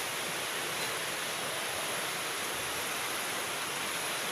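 Steady, dense rushing of water, a continuous broadband roar with no breaks, like a swollen river heard from a short distance.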